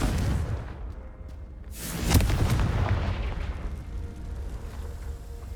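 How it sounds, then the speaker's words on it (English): A Confringo spell blast in the Hogwarts Legacy video game: a fiery boom with a sharp crack bursting in after a short rumble, then a long rumbling decay, no speech. "Confringo."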